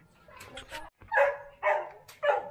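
A dog barks three times in quick succession at a stop while riding a Rusi Sigma 250cc motorcycle, sharp close yelps spaced about half a second apart after some quieter background sound.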